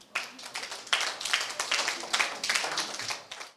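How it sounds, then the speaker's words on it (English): A small group claps for themselves during a visit to a newsroom at an international academy, quiet uneven handclaps in short rhythmic bursts, close and informal. "Clap for yourselves."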